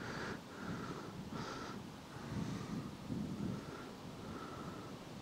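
Steady wind gusts across a microphone beside a river during float fishing, with a low continuous rumble and soft rushing that swells and eases throughout.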